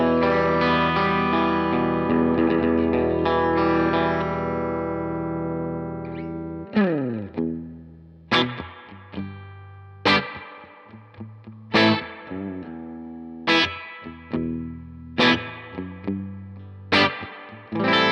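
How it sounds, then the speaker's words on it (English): An electric guitar plays through a Tone King amp with a Volante reverb, first a sustained, dense strummed passage, then a series of separate plucked notes and chords, each decaying with a trailing reverb tail. "we'll try a little bit of reverb from the volante"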